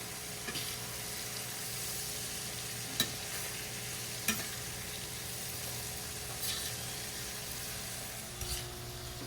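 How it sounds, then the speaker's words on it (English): Farm-raised shrimp frying in a pan give a steady, even sizzle with a few soft stirring clicks on top, heard close and alone. "So the shrimp are cooking really nice."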